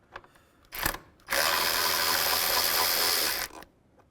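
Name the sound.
ratchet turning a 10 mm bolt on a car radiator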